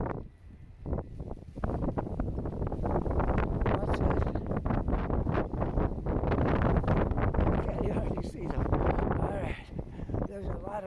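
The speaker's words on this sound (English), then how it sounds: "There's a lot of wind." Heavy, continuous wind buffets a microphone outdoors during a nor'easter snowstorm in Halifax, a loud, steady roar with gusty surges throughout.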